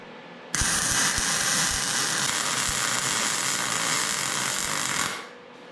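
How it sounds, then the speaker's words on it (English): Welder with a worn, damaged tip welding a metal ski and snowboard rail: a steady, loud crackling buzz that runs for about five seconds and then cuts off, with no talking. "I think the tip on the welder is pretty much pooched, and it doesn't like me going sideways."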